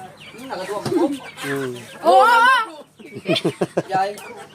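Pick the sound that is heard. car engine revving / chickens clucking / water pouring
chickens clucking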